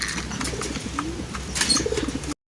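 Racing pigeons coo softly at a loft during a derby race, with a few low burbling coos and some light rustling, close and with no talk, before the sound cuts off abruptly.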